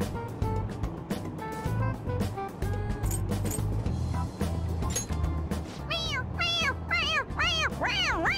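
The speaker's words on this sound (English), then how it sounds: "It meows when you press on its head." Toy cat in Persona 5 Royal meows when its head is pressed, a string of rising-falling squeaky meows near the end following a stretch of game music and chatter, loud and close.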